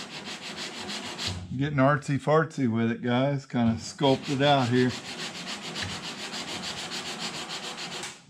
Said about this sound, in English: We're sanding body filler off instead of putting it on, right?